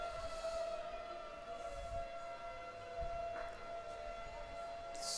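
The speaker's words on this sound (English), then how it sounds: "You can hear the sirens in the background" Civil defense sirens wail from the Point Lisas Industrial Estate behind an outdoor cricket match, a steady sustained tone with slight rises, distant but continuous throughout with low ambient rumble.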